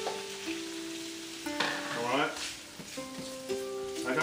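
Raw chopped shrimp hit a hot wok and sizzle for spring roll filling, a soft steady crackle with brief scraping stirs, quiet and close, and no voices heard.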